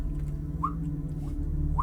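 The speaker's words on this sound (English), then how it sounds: "the sound of dropping water, the sounds of caves below" Water drips into a cave pool in a fantasy horror tabletop role-playing game's ambience, with a few distinct, hollow plinks spaced apart over a low, steady rumbling drone.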